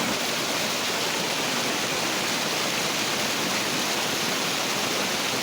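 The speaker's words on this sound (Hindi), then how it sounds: "यहाँ का जो झरना अलग ही लेवल का भाई। ओ भाई साहब है, भाई साहब कुछ भी हो सकता, पानी इतना तेज है" A village waterfall swollen after heavy rain, its fast-flowing water roaring loud and close in a steady, unbroken broadband rush with no voices.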